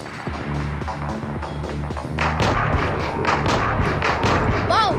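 Gunfire in the mobile shooting game Johnny Trigger, a quick run of punchy thuds and taps that grows louder partway through, with a voice faintly audible underneath.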